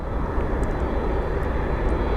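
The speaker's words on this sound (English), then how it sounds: "It's a big business jet, can you imagine?" A big business jet at Phoenix Sky Harbor International Airport roars continuously, a loud, broad engine rumble filling the air with no talk over it.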